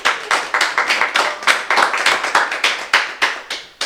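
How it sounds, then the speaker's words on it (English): Live-show audience applause, a steady run of fairly close, rhythmic hand claps that rise and fall in quick pulses for a few seconds with no voices over them. "Give yourself a round of applause."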